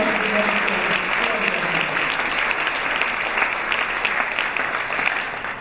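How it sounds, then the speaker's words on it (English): Audience at an awards gala in a large room applauding, sustained clapping from many hands that holds steady, then tapers slightly at the end, with faint voices underneath. "So you give him a round of applause, too, because he's not a politician"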